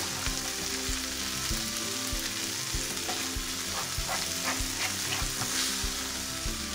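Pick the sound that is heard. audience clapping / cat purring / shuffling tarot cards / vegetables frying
vegetables frying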